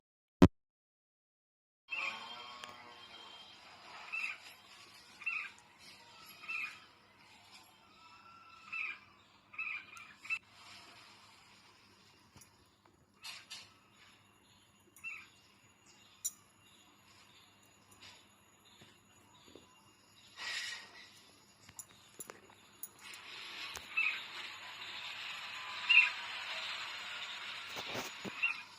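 A pair of agitated red-vented bulbuls call outdoors in bursts of sharp, repeated chirps. The calls are close and intermittent at first, then build into a denser, continuous stretch of calling near the end.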